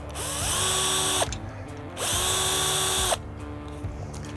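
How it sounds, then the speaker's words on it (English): Power drill gently undoing screws on a motorcycle luggage rack: two whining bursts of about a second each with a rising motor pitch, separated by short pauses, close and clear with no talk. "with a power drill, be very gentle, so just lightly undo them"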